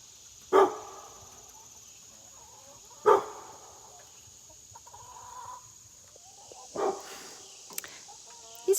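A farm dog named Hank barking at something up on a ridge near a small homestead barn, with a few loud separate barks spaced several seconds apart over a quiet outdoor background with a steady high insect drone.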